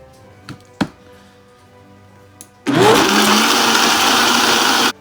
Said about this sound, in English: So this is the Vitamix high power blender.